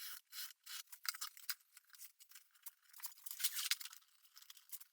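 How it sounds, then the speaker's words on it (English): Old leather welder's apron being cut at a joiner's workbench, a close series of dry, scratchy rasping strokes in irregular bursts, fairly quiet with no voices. "I'm cutting an old welder's apron"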